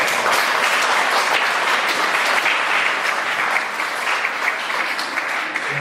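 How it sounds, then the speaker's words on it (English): A crowd at an outdoor Liberal riding association barbecue in Windsor applauds steadily and densely, loud and sustained throughout with no break. "So please, a round of applause."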